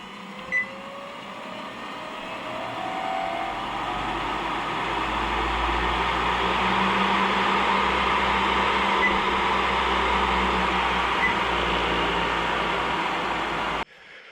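A 2x72 belt grinder motor on a variable drive spins up and runs with a steady, loud whirring drone, holding an even pitch before cutting off abruptly near the end.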